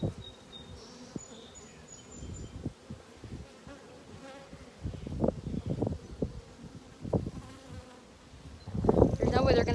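Agitated honey bees swarm around an opened hive in a close, steady buzzing, with rustling and handling noises that swell louder toward the end.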